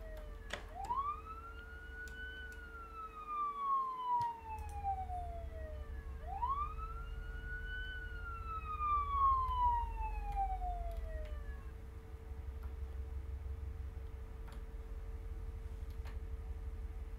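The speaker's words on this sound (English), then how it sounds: "The siren stopped." A video game police siren wails in two long rising-and-falling sweeps over a low steady hum, then fades out, leaving the drone alone.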